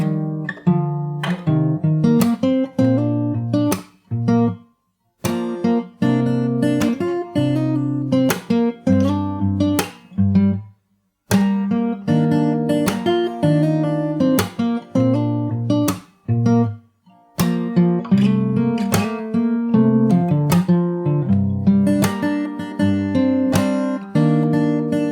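Fingerstyle acoustic guitar playing from the end of the first verse into the chorus, a steady run of plucked chords and melody notes with a few brief pauses, close and solo.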